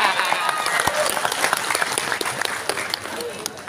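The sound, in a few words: audience applause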